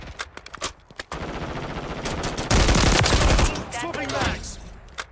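Automatic gunfire in the game Modern Warfare 3 on the Karachi map, with close rapid bursts and single shots, a dense loud stretch of firing in the middle, and some distant shots and footsteps at the edges.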